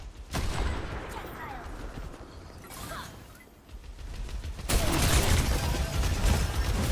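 Gunfire in an Overwatch 2 match, a steady crackle of shots under an excited commentator, growing denser and louder in the last couple of seconds.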